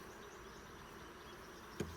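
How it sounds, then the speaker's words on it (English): Honeybees buzz around a hive on a fine summer day, a faint, steady drone of many insects close by, with a brief louder buzz as one passes near the microphone. "hanging with some bees."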